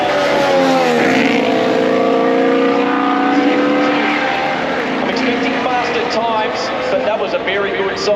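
A Formula 1 car at Turn 1 of the Australian Grand Prix during second practice, a loud, high engine whine that rises and then drops as the car passes, with a commentator talking over it.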